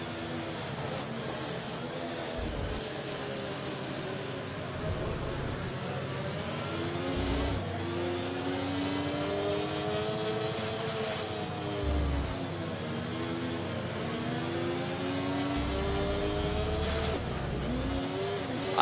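Haas Formula-style race car engine in a racing video game, a steady loud whining drone with rising and falling pitch through gear changes over the whole stretch, no talking.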